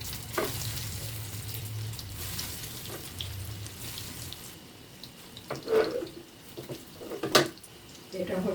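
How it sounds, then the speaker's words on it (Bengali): Prawn cutlets sizzle in hot oil, a steady frying hiss with occasional louder pops and scraping clinks near the end, close and moderately loud. "তেল গরম হয়ে গেছে, এবার আমি এক এক করে ছাড়বো।"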